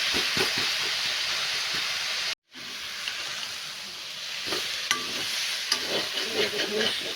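Shredded cabbage fries in a pan while being stirred, a steady broadband sizzle with scraping taps; a brief gap drops to silence midway before the frying hiss resumes, close and fairly loud with no talk.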